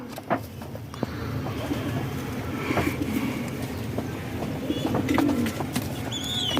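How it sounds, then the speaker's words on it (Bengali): A large pigeon gives low, throaty coos against a busy background rumble, with brief chirps and clicks nearby. "এই যে বাবা বিশাল বড় পায়রা"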